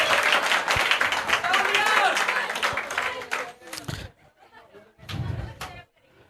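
Audience clapping and cheering at an open mic show in Dheerpur, Delhi, a dense burst of applause mixed with crowd chatter and voices for about four seconds, fading out, then a brief second flurry.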